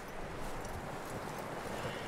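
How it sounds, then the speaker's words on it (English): Rapid hoof clip-clops of a horse walking on hard ground in Red Dead Redemption 2, steady and close, over a dense noisy background. "that looks like a decent horse"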